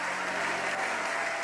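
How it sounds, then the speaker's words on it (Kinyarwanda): Congregation at a church service clapping together, a dense, even burst of many hands that fills the brief moment without pause. "Mwongere Yesu amashyi"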